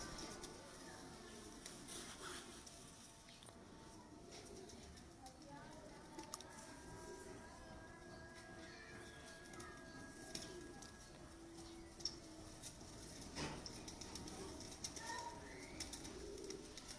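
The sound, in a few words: pigeons cooing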